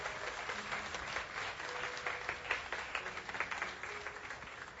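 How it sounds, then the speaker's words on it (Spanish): A church congregation applauds steadily and fairly loudly, a dense continuous patter of many hands clapping throughout with no break. "Si lo va a aplaudir, apláudalo."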